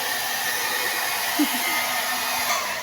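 An electric blower dryer runs steadily while pets are groomed, a constant close whirring hiss with a faint brief sound partway through.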